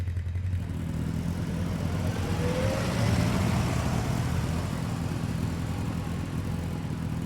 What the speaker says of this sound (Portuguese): esse barulho do quadriciclo